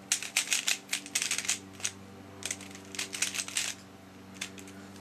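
A lubricated Guhong speed cube being turned, giving repeated bursts of crisp plastic clicking and clacking in quick rapid runs with short pauses, close and fairly loud, over a steady low hum, with no talking.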